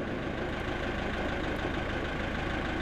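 A tractor engine runs steadily during an onion harvest in the field, a continuous loud mechanical drone with a low rumble and no pauses or voices.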